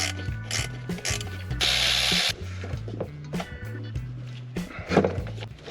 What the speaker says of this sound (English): I'm taking them off with a 10mm. And this time I do have my ratcheting wrenches